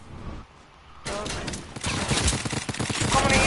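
A rapid burst of video game gunfire crackles in quick repeated shots from a battle royale building game, growing louder toward the end, with a player's voice talking over it.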